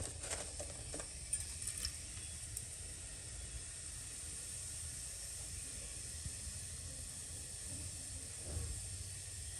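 Cumin seeds sizzle in hot oil as a tempering for a Kathiyawadi olo, a faint, steady hiss that stays even throughout with a few small pops and no talking.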